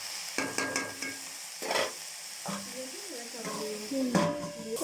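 Methi (fenugreek) greens frying with a little turmeric in a pan: a soft, quiet sizzle with scattered stirring clinks, and a voice talking faintly at times.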